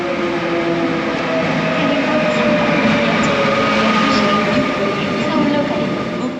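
A Korean Mugunghwa locomotive-hauled passenger train bound for Seoul on the Gyeongbu Line rumbles along at a steady loud roar, with the wheels clacking over the rails beneath the carriage.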